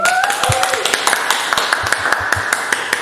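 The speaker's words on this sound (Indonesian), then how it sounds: "Boleh minta tepuk tangannya mungkin?" Scattered audience clapping at a parish talk-show event, a run of sharp distinct claps of moderate loudness, with a voice briefly sounding near the start.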